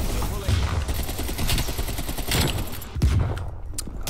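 AK rifle bursts in Call of Duty Cold War multiplayer, rapid clattering volleys of gunfire with booming low thumps, dense and loud, pausing briefly near the end.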